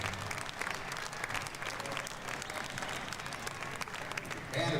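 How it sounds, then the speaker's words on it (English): Crowd at a college men's basketball game during a host family appreciation pink-out night applauding in a gym, a continuous wash of clapping and crowd noise, fairly distant, steady for about five seconds. "And one more big round of applause."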